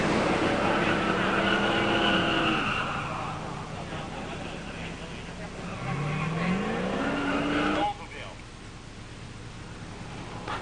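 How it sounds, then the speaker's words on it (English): An '85 Olds 442 with a 307 automatic and an '86 Buick Grand National Turbo 231 V6 automatic roar down a drag strip, engines loud and revving. They then fade with a rising sweep of pitch as they pull away. "In the near lane, Todd Rothroff's 85 Olds 442 307 automatic"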